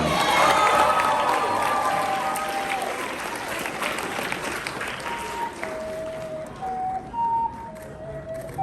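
Crowd applause and cheering for a cosplay contest participant at a comic con in Lakeland, Florida, loud at first and thinning out, with some whistles and voices in the mix.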